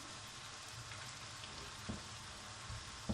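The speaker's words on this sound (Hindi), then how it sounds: "अब ये हम इसमें चने डाल लेते हैं।" Boiled chickpeas hit a pan of softened, cooked tomatoes for Lahori chana masala, giving a soft, steady sizzle with faint clinks and thumps near the end, quiet and with no voices.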